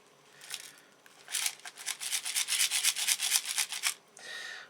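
Dry, gritty rattling like dried rice shaken inside a model railway wagon, in a dense run of rapid shakes over a few seconds, fairly close and unaccompanied.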